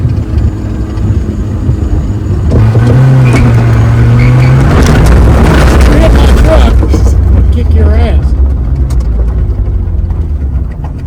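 The engine of an abandoned Toyota AE82 Corolla FX hatchback runs loud and close with a rough, steady drone, running without an alternator belt, while people talk and exclaim over it.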